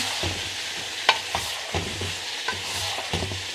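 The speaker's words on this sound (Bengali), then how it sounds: "তেলের ভিতরেই হলুদ দিয়ে পেঁয়াজ আদা রসুন দারচিনি এলাচ সব কিছু দিয়ে মাংসটা একটু কষায় নেব" Lamb meat with turmeric, onion, ginger, garlic, cinnamon and cardamom fries in oil, a soft sizzle broken by repeated scraping stirs and occasional utensil clinks.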